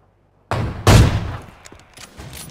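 Two close, loud gunshots in the battle-royale game PUBG Mobile, a sharp crack followed quickly by a heavier boom that rings out and decays, with faint softer sounds trailing after.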